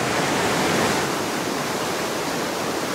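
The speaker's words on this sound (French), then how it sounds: "C'est le minimum pour qu'on ait vraiment tout le loisir d'apprécier ce qu'est un torrent sauvage." The wild Nant Bénin mountain torrent in Savoie rushes in a steady, loud, broadband roar of churning whitewater, continuous and close with no voices over it.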